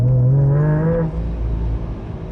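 Supercharged Subaru EZ30 flat-six engine revving from about 2500 rpm as the gas pedal is lightly pressed, a loud rising drone that climbs for a second, then drops back to a low rumbling idle.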